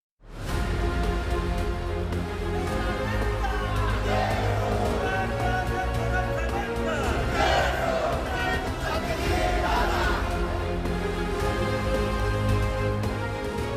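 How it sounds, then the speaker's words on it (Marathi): Crowd of party workers in Sangamner celebrating an election win, a dense continuous roar of cheering, shouting and chatter at steady loudness throughout with music-like tonal layers underneath. "संगमनेरमध्ये संगमनेर सेवा समितीच्या कार्यकर्त्यांनी प्रचंड जल्लोष केला"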